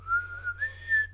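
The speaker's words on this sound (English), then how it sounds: "When they do general quarters, they go, this is not a drill, and then they blow a whistle." A naval boatswain's whistle sounds for general quarters aboard a warship in a Godzilla film: a clear, sustained pitched tone that wavers and steps up slightly in pitch, pulsing gently in loudness over about a second.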